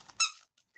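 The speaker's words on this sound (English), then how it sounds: "So this is my hot tamales squeaker." A hot tamales candy-themed dog squeaker toy gives one bright squeak, followed by a faint shorter chirp near the end, heard alone without speech.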